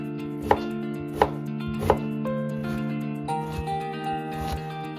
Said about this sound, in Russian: 1 луковицу нужно нарезать на мелкие кусочки.